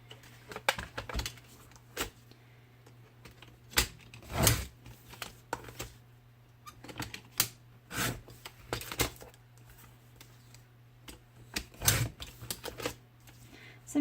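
White card stock pieces are trimmed down for a handmade card, giving irregular soft snips and slicing strokes with scattered clicks and rustles, quiet and close.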